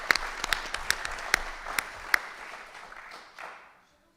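Moderate applause from an audience at a panel event, sparse individual claps standing out over a softer wash of clapping that fades to silence within about four seconds.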